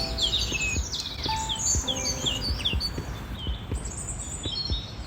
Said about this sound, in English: the chorus of birdsong